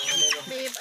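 A chicken clucks briefly up close at a village spirit-house ceremony in Laos, a short run of throaty clucks with a faint voice in the background.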